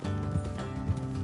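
Horse hooves clip-clopping along a road in a PS4 video game, a close, steady rhythm of hoofbeats over a low continuous background.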